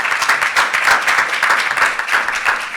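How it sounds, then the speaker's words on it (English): A conference audience gives a panel a steady round of clapping, dense and fairly loud throughout, with no voices over it. "So let's give our panel another round of applause."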